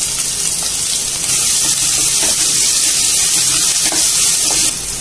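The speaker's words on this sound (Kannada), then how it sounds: "ಕರಿಬೇವು ಹಸಿಮೆಣಸಿನಕಾಯಿ ಇದನ್ನ 30 ಸೆಕೆಂಡ್ ಹುರ್ಕೋಬೇಕು ಈಗ ಈರುಳ್ಳಿ ಹಾಕೊಳ್ತಿದ್ದೀನಿ" Onion tipped into hot oil with frying curry leaves and green chillies for girmit, a steady loud sizzle that swells near the start and holds, with faint stirring scrapes.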